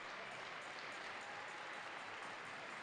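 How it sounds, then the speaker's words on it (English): Spectators clap in rhythm for a long jump athlete at a university track and field national championship, a faint, dense, even clatter of many hands from a distance throughout. "They've got the clap going"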